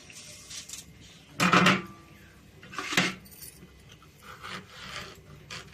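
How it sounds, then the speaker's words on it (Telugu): A washed ash gourd is cut into pieces with a knife, giving two louder scraping, crunching cuts followed by softer slicing and tapping sounds nearby. "నీట్గా కడిగేసి ముక్కలు కోసేద్దాం"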